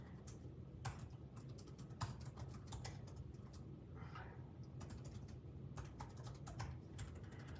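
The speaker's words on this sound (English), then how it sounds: "Just typing it in." Someone types on a computer keyboard, a quiet irregular patter of key clicks in short bursts with brief pauses between them, close and alone.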